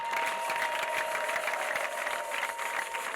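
A church congregation at an ADEPR prayer service breaks into sustained applause with high ululating cries, a steady crowd roar holding at moderate distance for the whole stretch.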